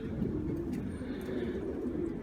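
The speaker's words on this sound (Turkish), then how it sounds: "İşte güzel kuşlar aşağıda." Soft, steady cooing from a flock of pigeons kept in a coop, a low murmuring drone with no talking.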